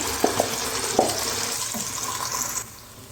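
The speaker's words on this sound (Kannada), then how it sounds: "ಮಸಾಲೆನೂ ಎಣ್ಣೆಯಲ್ಲಿ ಚೆನ್ನಾಗಿ ಫ್ರೈ ಆಗಲಿ" Ground masala paste frying in oil for a spicy fish gravy makes a busy, wet sizzle with a few quick stirring clacks early on, close and steady, then the sound drops suddenly near the end.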